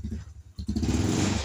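A Suzuki Skydrive motor scooter engine with a racing exhaust catches after a brief starter crank and settles into a steady, rough idle close by.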